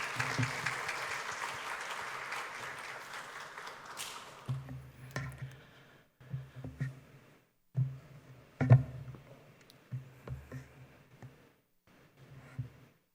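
A church congregation claps to welcome a newly appointed pastor before his first sermon: a broad wash of applause for about four seconds, then fading, followed by scattered room noises and a voice speaking.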